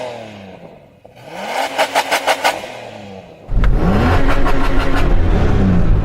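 A 3000-horsepower Nissan Patrol drag car engine revved hard and bounced off the rev limiter in a rapid stutter, then surging into a loud, sustained roar, close by with no talking.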